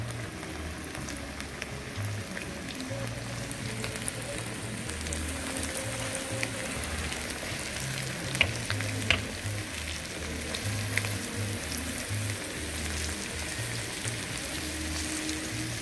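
Bream fries in hot grease with a loud, steady crackling sizzle that runs unbroken and close, with small popping spatters scattered through it.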